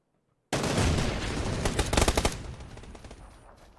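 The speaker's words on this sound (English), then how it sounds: "There's someone else shooting him" A sudden loud burst of rapid automatic gunfire in PUBG on Xbox One, a dense close rattle of shots that tapers off after a few seconds, with no talking.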